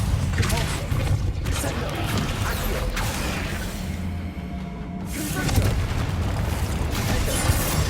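A Bombarda blasting spell from Hogwarts Legacy bursts with a booming explosion amid creaking, clanking mechanical game sounds, a loud swell followed by rumbling debris and continued ambient clatter.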